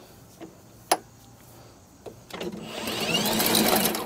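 A Milwaukee sewer drain cleaning machine starts up after a few clicks and knocks, building into a steady whirring, rushing run that holds at moderate loudness.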